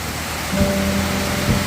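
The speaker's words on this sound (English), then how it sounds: "it's pouring rain" Pouring rain falls steadily outdoors at a carport build site, a dense broadband hiss throughout with a faint low tone and a couple of soft thuds partway through.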